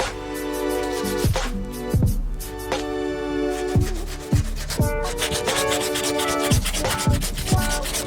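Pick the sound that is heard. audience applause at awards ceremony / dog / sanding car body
sanding car body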